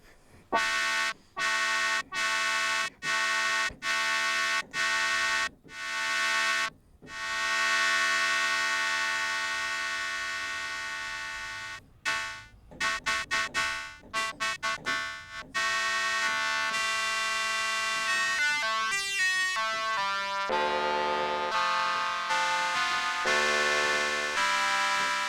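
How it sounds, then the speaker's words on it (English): Yamaha CS-50 synthesizer notes with long release tails, a series of short chords and then overlapping tones that cut each other off as new notes steal voices. "When you have the release way up, you can hear the oscillators robbing notes from each other"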